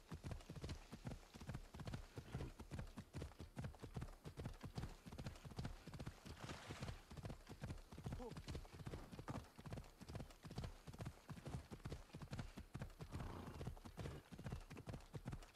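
Steady clip-clop of horse hooves galloping at a quick, even rhythm in Assassin's Creed Odyssey, a continuous close patter with an occasional brief snort and no talk over it.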